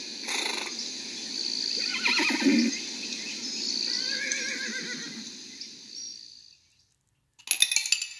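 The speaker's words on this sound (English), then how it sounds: "Horses." A horse whinnies loudly and at length, its call rising and wavering for several seconds before breaking off, followed by a brief rustle.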